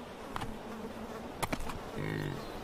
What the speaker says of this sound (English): with swarming bugs to pester them